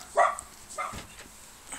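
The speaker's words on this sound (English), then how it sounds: "Excuse my dogs." Dogs bark a few times indoors, a couple of sharp yips and barks at moderate distance spread across a short moment, with no talking.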